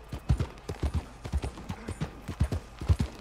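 Horse hooves clip-clop in a steady walking rhythm in Red Dead Redemption 2, a regular series of soft thuds, moderately close with faint background ambience.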